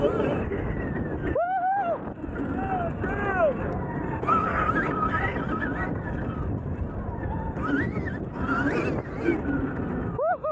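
A Stark Varg 80-horsepower electric dirt bike ridden on a track, its motor whining in rising and falling pitches over steady rushing wind and riding noise, with a voice briefly present.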